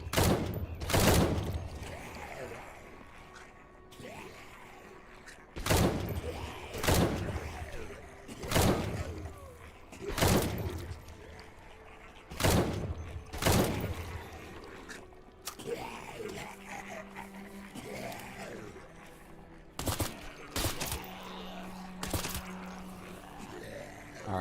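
An AR-15 rifle in the survival game HumanitZ fires sharp, loud single shots and quick pairs, spaced a few seconds apart, with a faint humming background and occasional thuds between them.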